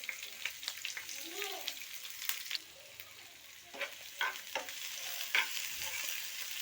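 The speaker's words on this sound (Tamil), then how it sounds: "இந்த எண்ணெயில் நல்லா பொன்னிறம் ஆகும் வரை நல்லா வதக்கிக்கோங்க" Onions sizzle softly in hot oil while being sautéed and stirred, with scraping and clinking from a utensil against the pan.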